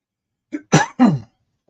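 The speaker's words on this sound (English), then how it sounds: "my coughing's been getting worse over the last several days" A short burst of two or three harsh, throaty coughs, close up, over in about a second.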